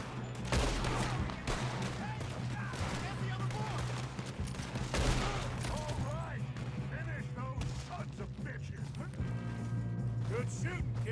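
Rapid gunfire in the Red Dead Redemption 2 video game, continuous volleys of shots and mechanical clicks over a steady low rumble, with voices speaking over the shooting.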